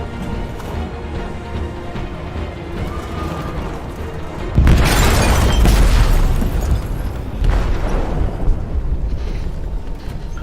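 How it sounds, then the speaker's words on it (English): An explosive goes off in a ship's hold in Detroit: Become Human: a sudden loud boom midway breaks through the rumbling ambience, followed by a sustained roaring crash and debris that slowly tails off. "They detonated an explosive in the hold."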